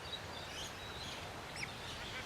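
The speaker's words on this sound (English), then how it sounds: "Mullahs Lagoon is just full of bird life" Faint bird calls rise over a soft ambient hiss at a lagoon in Bowen, Queensland, with a few brief chirps and distant duck-like quacks scattered through the quiet background.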